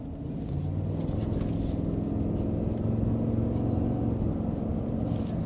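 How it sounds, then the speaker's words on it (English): Cabin of a 2025 Cadillac Escalade Sport Platinum SUV at normal driving speed: a steady, loud low engine and road drone with tire rumble, no pauses, recorded from inside the vehicle. "we're just doing normal turns and normal speed here, but it seems to carry its weight well for normal day-to-day driving"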